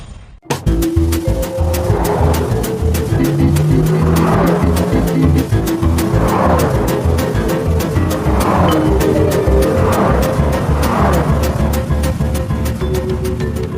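A car driving fast, its engine roaring and revving steadily with rhythmic pulses and a brief tyre squeal, loud and close from start to finish.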